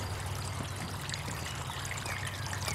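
Water trickles steadily from upper Dutch buckets into lower ones and on into a main header pipe, a continuous close pouring and dribbling sound over a low hum, with no talking.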